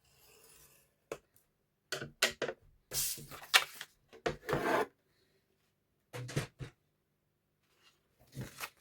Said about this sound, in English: we're going to score it at the 4-inch mark.